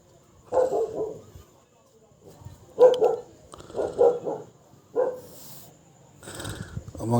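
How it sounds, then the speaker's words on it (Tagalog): Several household and stray dogs in a neighbourhood bark in a few separate bursts over about seven seconds, fairly close and loud, with short quiet gaps between barks. "pagpaumanhin nyo na kung meron kayong marinig na mga tahol na aso"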